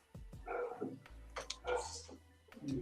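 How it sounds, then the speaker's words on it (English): Several dogs bark in the distance, a string of faint, irregular barks and yips overlapping, fairly quiet overall with no clear talk over them. "Damn dogs, bro."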